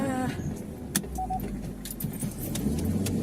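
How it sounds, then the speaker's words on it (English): A car approaches along a road through woods, a steady low engine rumble building underneath, mixed with light jangling and clicking sounds from inside the vehicle. "Oh my god, there's a car coming."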